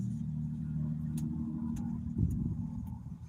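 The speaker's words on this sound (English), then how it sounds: "Lots of loud cars out today." Cars drive past outdoors on a Sunday, a continuous low engine rumble with a louder swell as one vehicle goes by, moderately close, no talking.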